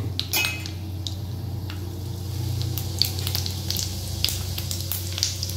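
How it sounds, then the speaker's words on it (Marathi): Cumin and mustard seeds hit hot oil in a pan for a tomato bhaji, giving a steady sizzle and crackle with scattered metallic clinks and stirring taps from the pot. "तर आपण टाकतोय त्याच्यात जिरे आणि मोहरी"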